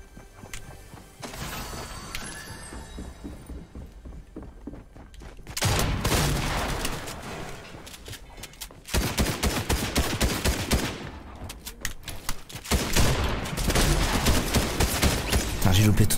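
Bursts of rapid gunfire from the Fortnite video game, loud dense volleys repeating across the clip with short pauses between them, under occasional talk.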